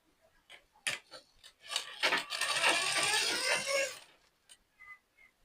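A sewing machine runs a continuous edge seam along a blouse for about two seconds, a steady whirring burst framed by scattered clicks and handling taps before and after.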